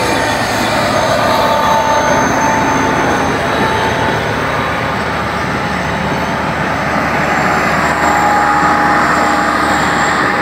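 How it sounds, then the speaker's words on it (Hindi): A train arriving at Nawabshah railway station, a loud continuous rumble and rail roar filling the whole stretch without letup, no voices over it. "अभी हम नवाब शाह रेलवे स्टेशन पे हैं, गाड़ी आ रही है।"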